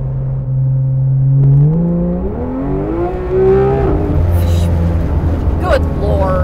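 A 2019 Porsche 911 GT3 RS engine pulls hard on a cold day, its loud rising drone climbing through the gears with a couple of quick shift steps, heard from inside the car.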